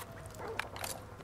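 A dog barks in the Modern Warfare 2 Remastered campaign, a few short yelps heard faintly over steady game ambience.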